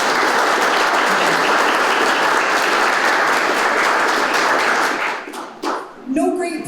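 A crowd at an outdoor ribbon cutting for a viaduct park in Faribault gives sustained, dense applause that fades out over the last second and a half, and a voice speaks as it dies away.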